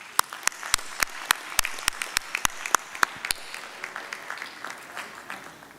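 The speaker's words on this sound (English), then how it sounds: "Let's give these talented youngsters another round of applause." Sparse, distinct handclaps at an evening university graduation ceremony on campus, a dozen or so sharp close claps in an uneven rhythm that thin out and fade into quiet room noise.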